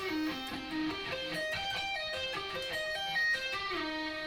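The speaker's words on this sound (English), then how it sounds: "So the sweep section sounds like this." Guitar sweep-picked arpeggios from a song's solo, fast rippling note runs rising and falling in steady succession, played fairly quietly with no talk.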